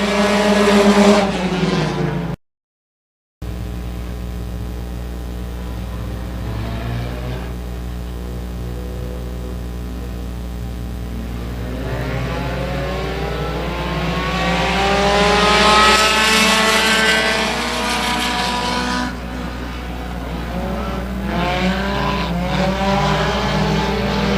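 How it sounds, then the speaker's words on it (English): Compact race cars running a heat on an oval track, their engines droning and rising and falling as the pack passes, with a sustained roar that swells and fades at a distance and no voices. "Underway in your second compact heat of the night."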